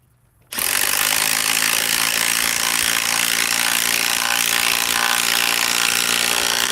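A DeWalt power tool starts after a brief quiet moment and cuts loudly and continuously with a harsh, steady sawing roar that lasts to the end.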